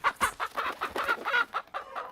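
Chickens clucking in the video game Resident Evil 4, a rapid run of short, sharp clucks repeating in an uneven rhythm, close and clear with no talking.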